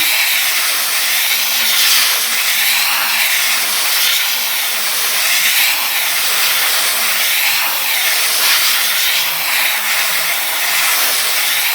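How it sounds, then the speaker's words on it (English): A steady, loud hiss of air blowing back and forth across fresh paint on a Dodge Magnum in a hot spray booth, continuous and close with gentle swells, no talking. "All I'm doing is just blowing air on it, no paint."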